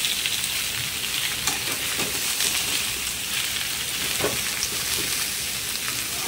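Boiled potato bhujiya frying in a pan, a steady close sizzle and crackle with faint scraping as it is stirred, no voices.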